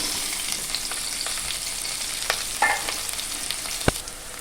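Chopped onion stirred with bay leaf and dried red chilli in hot oil, giving a constant close sizzle broken by a few sharp clicks and taps of the spoon against the pan; no speech.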